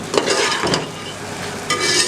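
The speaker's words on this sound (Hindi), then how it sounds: "इसे 1 से 2 मिनट मुसलसल चम्मच हिलाते हुए ऐसे ही पका लेंगे ताकि अच्छा सा खूबसूरत सा ब्राउन कलर आ जाए" Leftover roti pieces frying in a pan and stirred with a spoon, a close steady sizzle with scraping sweeps of the spoon, alone without talk.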